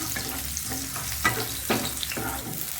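Cinnamon, cloves and cardamom fry in oil with garlic for mutton keema balls, making a continuous sizzle broken by several rhythmic scraping stirs of a ladle.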